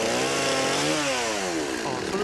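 A chainsaw roars continuously at close range during a kickback, its engine pitch sliding down and back up in one sudden surge as the saw lurches.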